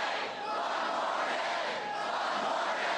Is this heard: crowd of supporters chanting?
yes